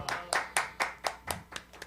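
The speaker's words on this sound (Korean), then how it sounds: "박수!" A few people in a studio at the start of a church jazz hymn broadcast clap in a steady rhythm, about eight distinct close claps spaced evenly with quiet gaps between them.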